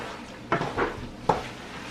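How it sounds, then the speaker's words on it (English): A thick roux is stirred in a pan as liquid is slowly added, giving faint scraping and a few soft wet swishes and clinks, two sharper strokes standing out against a quiet background. "So I'm just going to add in slowly and stir."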